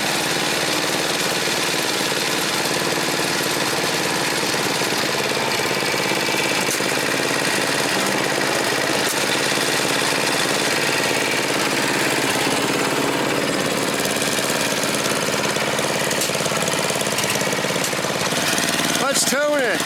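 Craftsman red 30-inch tracked snowblower engine idling steadily, a continuous loud mid-pitched drone with a faint revving swell at the very end.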